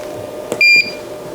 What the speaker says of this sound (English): it does have a really annoying beeping sound